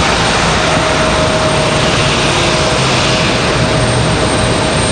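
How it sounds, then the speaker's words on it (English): Twin jet engines of an Embraer E175 roar steadily at the gate, a loud, dense and unbroken wash of noise with a faint high whine riding on top and no talking. "Turn this up once these two E1s shut down here."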